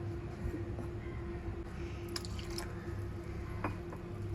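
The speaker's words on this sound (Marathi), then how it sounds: "थोडं थोडं पाणी घालून आपण बॅटर बनवून घेऊया." Gram-flour batter for ridge gourd bhaji, with crushed spices and asafoetida, is stirred while water is added bit by bit, giving soft, wet squishing and a few faint drips over a low, quiet kitchen hum.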